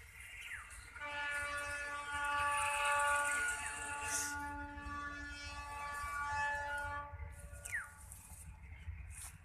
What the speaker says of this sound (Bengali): বিশাল বড় একটা মাল ট্রেন, মালবাহী ট্রেন।